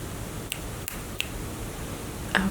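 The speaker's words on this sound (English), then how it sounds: "Now I'm just going to be snapping my fingers around" Four crisp finger snaps ring out one at a time around the listener's ears during an ASMR cranial nerve exam, spaced irregularly over a quiet, faintly hissing background.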